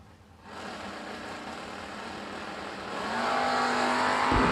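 A Chevelle and a Camaro run side by side down a drag strip, their engine roar starting abruptly and building to a louder, sustained, close-up drone with no talk over it.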